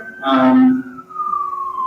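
An emergency vehicle siren wails outside, its tone sliding slowly downward, with a brief louder tonal blare at the start.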